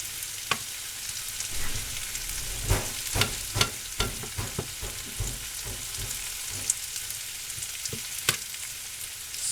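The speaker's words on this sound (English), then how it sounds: "I'm just going to let these veggies soften a bit. You can see the onions already getting there." Chopped vegetables and onions for chicken cacciatore soften in a hot pan, giving a steady fine sizzle broken by scattered clicks and scrapes of stirring, close and moderately loud with no talking.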